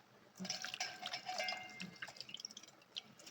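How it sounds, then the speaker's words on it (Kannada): Pieces of salmon are rinsed in water, with drips, trickles and small splashes of handled fish, quiet and close, with no voices. "ಹಾಗೆ ಎಲ್ಲ ಫಿಶ್ನೆಲ್ಲ ತೊಳ್ಕೊಂಡು ಬರ್ತೀನಿ"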